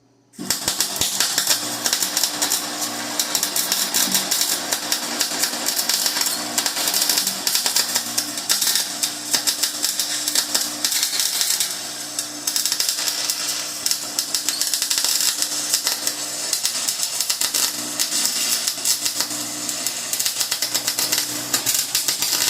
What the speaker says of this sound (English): it's not super easy welding